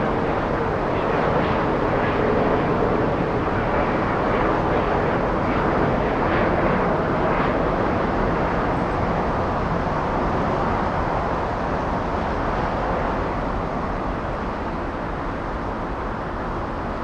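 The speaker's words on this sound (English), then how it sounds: "In the distance, that's 777, that is Air France." Air France Boeing 777 in the distance at a large airport: a steady, moderate broadband jet roar holding evenly throughout and easing slightly toward the end, no voices.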